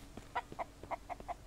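Chickens clucking in the survival video game Mist Survival, a quiet series of about seven short evenly spaced clucks heard alone.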